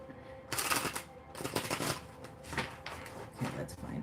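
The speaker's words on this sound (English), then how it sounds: "That was a bad shuffle." Tarot cards are shuffled in several quick riffling bursts, close and fairly quiet, with short pauses between them.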